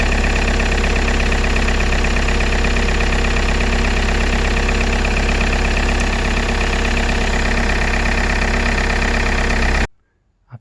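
A Toyota RAV4 engine idles loudly and steadily nearby with its ignition on, a constant rumbling drone that cuts off abruptly near the end.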